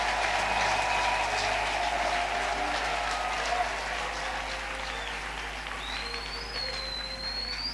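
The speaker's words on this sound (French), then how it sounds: "Ils acclament pour Jésus-Christ." Congregation at a Friday church service in Tshuapa applauding and cheering for Jesus Christ, a continuous crowd roar of clapping that stays fairly steady, with some voices mixed in.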